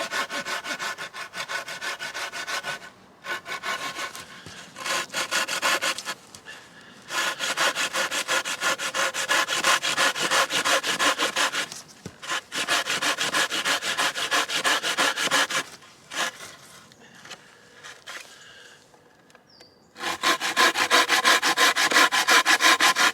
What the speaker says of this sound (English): And then let's start sawing.